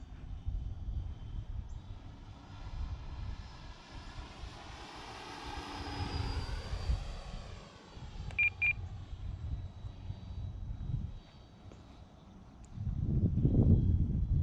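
A small radio-controlled FMS T-28 Trojan model airplane's engine buzzes overhead, rising and fading as it passes, with a couple of short beeps and gusty handling noise near the microphone.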